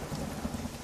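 Steady heavy rain pours throughout with a low rumble of thunder underneath, a dense, even wash of sound with no voices.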